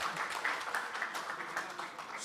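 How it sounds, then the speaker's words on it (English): An audience claps together at a music business conference panel, a dense, steady patter of many hands filling the room for a couple of seconds without pause. "this is how you clap when we don't ask you to clap"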